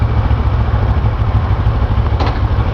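A motorcycle cruising on the road, its engine producing a steady low rumble with a rhythmic pulse under constant wind and road noise, close and fairly loud.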